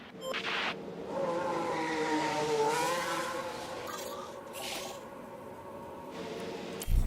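Formula 1 race cars in the video game F1 Manager 24 roll out onto the Baku street circuit for practice, a steady moderate engine drone with rising and falling tones and brief tire squeals.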